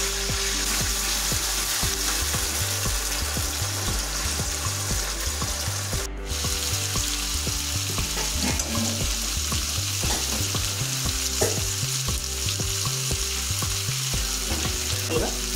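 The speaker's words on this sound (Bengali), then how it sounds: "একইভাবে বাকি সমস্ত আলুগুলো তেলের উপর আমরা ভাজা করে নেব।" Potato pieces fry in oil in a kadai for a bitter gourd and potato fry, a loud continuous sizzle with stirring that runs throughout over a rhythmic low beat.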